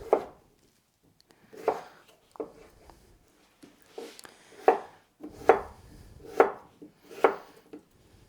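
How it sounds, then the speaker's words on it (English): A kitchen knife chops peeled potatoes into chunks on a cutting board, with several crisp, separate cuts at an irregular pace, close and fairly quiet, with no talking. "And I'll just chop those into chunks."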